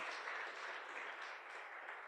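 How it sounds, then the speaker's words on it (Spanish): A church congregation at an evening worship service claps together in a steady, dense wash of applause that stays even and somewhat distant for a couple of seconds. "Regálenle un fuerte aplauso esta noche a Dios."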